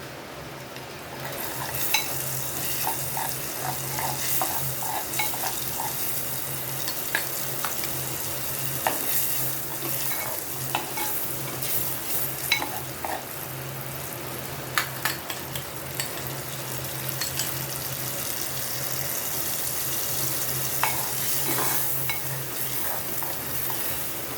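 Small fish in masala paste of ground tomato and asafoetida, stirred gently in a clay pot, give a steady sizzle and frying hiss with soft scraping, continuous and close, without talk.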